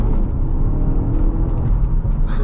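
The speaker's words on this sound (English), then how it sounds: "we're gonna see if we can go from a second gear pull here" A Ford Focus RS pulls hard in second gear from inside the cabin, its engine a loud, steady rumbling drone under road noise, with no break in the acceleration.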